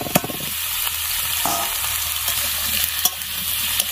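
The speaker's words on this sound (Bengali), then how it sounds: "এবার আমি বেগুনটা ভেজে নিব।" Eggplant fries in hot oil in a pan already used for frying fish, a loud continuous sizzle with a few sharp spatters and stirring scrapes, close up and without voices.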